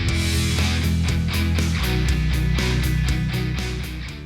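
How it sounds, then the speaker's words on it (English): Several 3D printers running on a workshop bench make a loud, continuous mechanical whir, with steady rhythmic stepper-motor pulses repeating throughout. "apologize for the noise of the 3D printers running"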